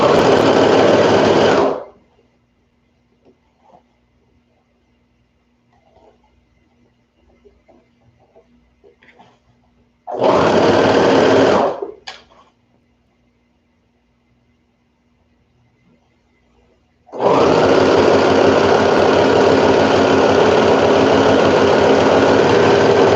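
A sewing machine stitches a toddler peasant dress seam in three loud, close bursts of rapid even whirring, separated by long quiet pauses with faint handling noises, the last run lasting about six seconds.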